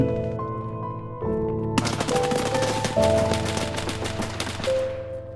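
Dense automatic gunfire from an Escape from Tarkov firefight, with sustained rapid bursts and overlapping shots, loud and close, rolling on for several seconds over a tonal in-game background.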